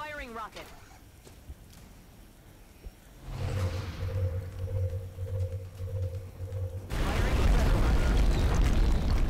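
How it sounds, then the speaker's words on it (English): A shredder rocket is fired in XCOM Enemy Within, starting quiet with a brief whoosh, then a humming launch tone and a loud roaring blast that swells toward the end, with no talking over it. "Firing rocket."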